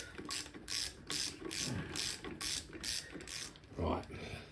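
Ratchet wrench clicking in repeated short bursts, about seven strokes, as bolts are snugged down on the top end of a 2002 Yamaha YZ250F motorcycle engine during a rebuild; close and steady with no talk.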